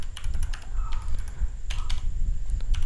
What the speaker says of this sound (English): all you have to do is to type in the content